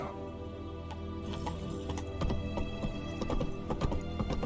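Hooves of the horse Roach clip-clopping in The Witcher 3, a brisk rhythmic run of hoofbeats that grows louder and denser midway, over a faint ambient game background.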